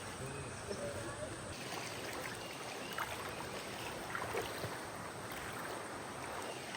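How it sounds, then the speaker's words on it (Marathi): A Tata Nano car fords a stream at a water crossing, with steady, continuous rushing and splashing water that stays at an even level throughout. "आता ही वॉटर क्रॉसिंग करायची आपल्याला"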